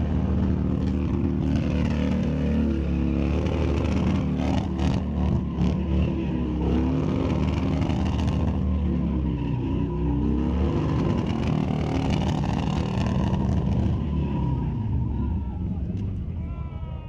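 Harley motorcycles at a drag race at Mission Raceway Park rev hard near the limiter, a loud continuous engine roar with rising and falling pitch, while an announcer talks over it.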